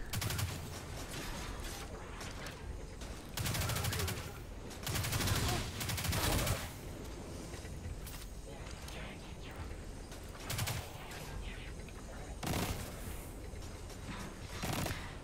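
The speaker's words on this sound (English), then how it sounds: "This rifle has better range to take out those sniper guys." Rifle fire in Destiny 2 PvE gameplay, loud repeated bursts of shots in several clusters over a steady din of combat noise.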